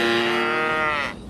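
A cow gives one long, loud moo with a rich harmonic tone, held steady for about a second before cutting off, alone with no talk.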